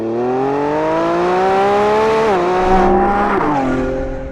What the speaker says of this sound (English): you're just biding time until that hulking great V12 takes over.